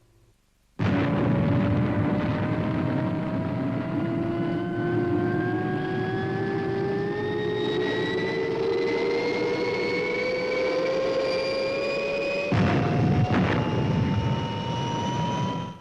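The Fireball XL5 spaceship lifts off with a loud, sustained roar of rocket engines, its tone sweeping steadily upward in pitch with a rushing, whining layer, followed by a sharp jump in intensity near the end.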